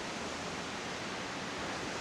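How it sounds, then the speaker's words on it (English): Waterfall beside the Vancouver to Whistler drive, a steady full-band rush of falling water, loud and unbroken throughout with no voices. "you've got the backdrop of the waterfall all the way along"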